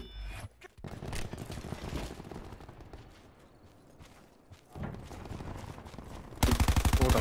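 Video-game gunfire from a weapon that sounds like it sprays pellets, in rapid bursts of shots throughout, with a dense, loud rattling run at the end.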